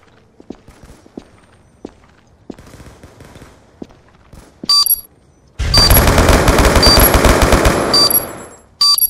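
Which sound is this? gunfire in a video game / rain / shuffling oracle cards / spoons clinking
gunfire in a video game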